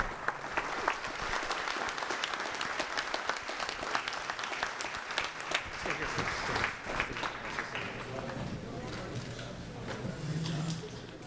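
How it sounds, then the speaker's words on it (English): A forum audience applauds an auto-industry panel, long dense clapping from a large room that holds steady, then thins slightly near the end, with a faint voice briefly underneath. "please give our panel another round of applause."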